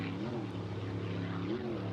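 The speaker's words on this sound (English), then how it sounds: "here we have the 32 Phantom tractor pipes. Give that thing a nice sound" Offshore racing powerboat fitted with Phantom tractor pipes, its engine a steady droning roar at a distance with slight pitch swells, continuous and moderately loud.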